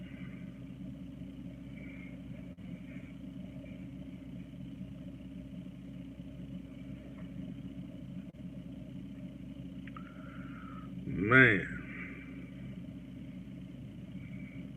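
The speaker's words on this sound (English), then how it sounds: "This little spot where I'm at got all kind of traffic" Street traffic rumbling steadily at a busy spot, a continuous low engine drone with one vehicle swelling louder as it passes close near the end.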